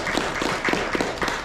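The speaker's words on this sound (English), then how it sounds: "a big thank you and round of applause to the organizers" Audience in a room applauds the event organizers, a fairly close patter of many hands clapping in an even, continuous burst with no talking over it.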